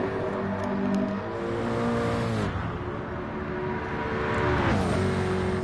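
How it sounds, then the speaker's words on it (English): A racing car engine in a PS4 racing game roars loud and steady, with rising and falling revs and gear-shift dips as the car accelerates. "Love the sound of Smith's car"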